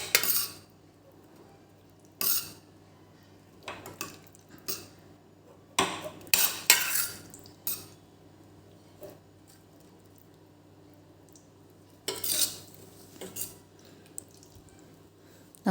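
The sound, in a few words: stirring and mashing bottle gourd curry with a spoon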